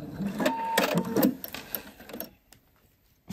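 A home sewing machine stitches a collar seam with a zipper, running in short busy bursts for about two seconds and then stopping, leaving near silence.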